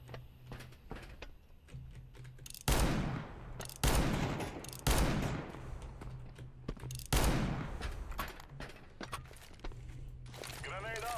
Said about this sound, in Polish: Jakoś się dziwnie strzela z tego rewolwera w CS2.